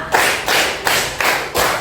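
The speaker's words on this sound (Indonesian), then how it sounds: "Beri tepuk tangan." Hands clap in a steady rhythm, several loud, close claps spaced about evenly apart during a counted classroom clapping game, with no voices over them.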